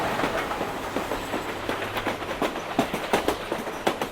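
A train runs along rails with a steady rumble and a regular clickety-clack of wheels over rail joints, continuous and fairly close, with no voices.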